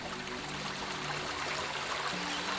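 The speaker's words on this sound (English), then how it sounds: "That's such a loud river." A loud river rushes steadily in the Bylina game world, a continuous broadband hiss of flowing water with no pauses, close and uniform throughout.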